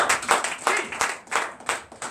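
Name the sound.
congregation applauding for Jesus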